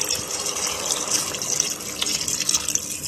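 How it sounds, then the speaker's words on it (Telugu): Warm water pouring into a pot of mutton curry during home cooking, a steady gushing, splashing stream heard up close for the whole stretch with no talk. "గోరువెచ్చని నీళ్ళు పోసుకుని"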